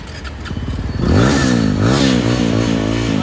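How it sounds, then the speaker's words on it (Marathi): A motorcycle-like vehicle arrives, its engine climbing into a loud, close revving whine with shifting pitch as it accelerates and then settles. "तो बघा आला गाडी घेऊन"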